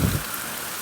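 Heavy monsoon rain pours down in a dense, steady hiss. A brief low rumble sounds at the very start.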